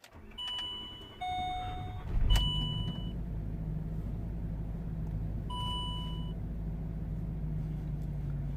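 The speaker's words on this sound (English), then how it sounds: "let's gonna start these things up and see what happens" A Range Rover with air suspension faults is switched on, its warning chimes and beeps sounding over the electrical hum before a sharp crank catches. The engine then settles into a steady, close idle rumble, and a second set of chimes follows.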